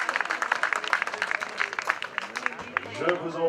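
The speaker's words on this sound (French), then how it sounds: "s'il vous plaît, de nouveaux applaudissements qui lui sont destinés" Crowd at a cycling race prize ceremony applauding, sustained clapping at moderate loudness that gives way to someone speaking near the end.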